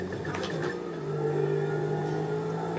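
A car engine in the video game GTA V Online hums and revs steadily at moderate volume, a continuous mechanical drone without pauses.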